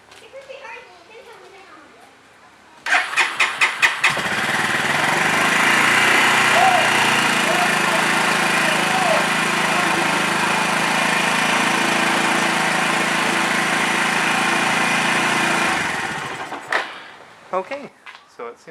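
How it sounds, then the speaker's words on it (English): A motorcycle engine fires up after a carburetor installation, with a few sharp starting pulses, then a steady, loud idle that runs about twelve seconds before cutting off, followed by a few scattered clunks. "Okay, and now we'll test fire the bike."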